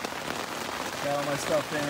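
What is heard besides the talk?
rain falling on tent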